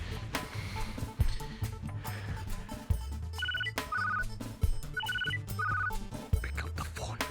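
A telephone rings in a domestic TV drama scene, a repeating electronic ringtone in short bursts of paired tones over background music and thumps, with people talking around it.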